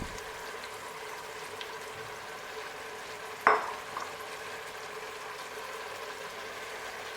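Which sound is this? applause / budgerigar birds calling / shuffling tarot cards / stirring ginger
stirring ginger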